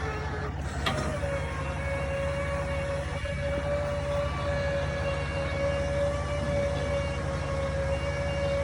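Landing gear motor running down during an Anderson Ultimate install, a steady electric whine holding one pitch under a constant low hum, with a faint click near the start.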